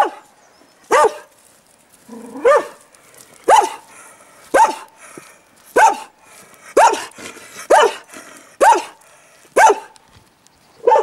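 A dog barks repeatedly at a steady pace, about a dozen sharp, loud barks nearby, with a short whine near the start.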